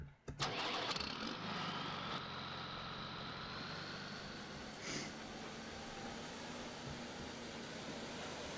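A tractor engine starting in the video game Farming Simulator 17: a sharp crank and catch at the start, then a steady loud idle that drones on for several seconds with a brief swell midway, no voices.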